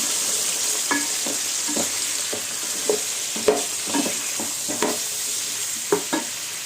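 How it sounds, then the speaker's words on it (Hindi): Washed chicken pieces fry in a pan for a Hyderabadi chicken aloo pulao, with a steady sizzle under regular scraping strokes of a spoon. "चिकन का कलर चेंज होना चाहिए, तब तक भून लीजिए।"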